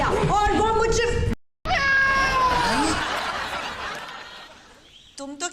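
A cat meows loudly and repeatedly nearby, with drawn-out, wavering cries, a brief gap, then more meows; people talk and chuckle over it.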